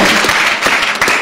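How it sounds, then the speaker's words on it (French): A loud, dense wave of applause fills a political party's extraordinary assembly in Côte d'Ivoire, a large crowd clapping together in a sustained roar with no voices over it. "Applaudissez pour vous."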